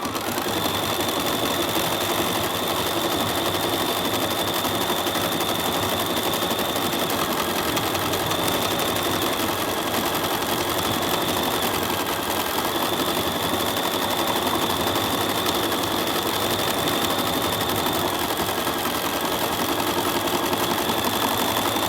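An embroidery machine runs continuously, stitching the trunk of an in-the-hoop Christmas tree tea light: a steady, loud mechanical whir with a constant high whine and rapid needle rhythm, alone with no talk.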